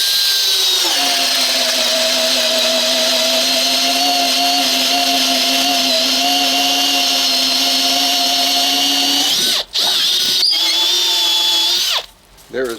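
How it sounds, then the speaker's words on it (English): A Makita XPH07 cordless drill bores into wood with a 1-inch auger bit, a loud steady whine with a low motor tone running continuously for about nine seconds, then stopping and restarting briefly in short bursts near the end. "This auger pulls the drill bit into the wood as it goes."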